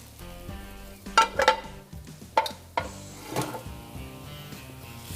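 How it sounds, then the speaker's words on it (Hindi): Chopped onion frying in oil for a chicken drumstick dish, a close sizzle with several loud bursts of scraping and stirring against the pan, settling into a quieter hiss between strokes. "प्याज को थोड़ा सा किया फ्राई"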